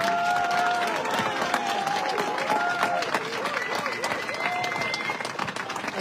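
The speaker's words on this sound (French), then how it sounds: "On l'applaudit" An audience at a French municipal election list presentation applauds, a steady wash of clapping with crowd murmur and voices over it, fairly loud and continuous.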